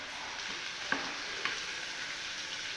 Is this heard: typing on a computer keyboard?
no